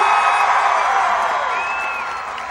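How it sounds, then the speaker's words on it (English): A large graduation crowd at a high school ceremony cheers and whoops loudly in a dense, sustained roar that gradually eases off, with high shouts rising above it. "I want everyone to cheer and clap as loudly as possible"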